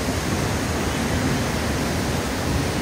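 An Oregon waterfall roars steadily and loud, a dense unbroken rush of falling water with no pauses and no voices.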